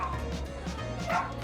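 A dog yips and barks briefly indoors, close by, with faint voices in the background.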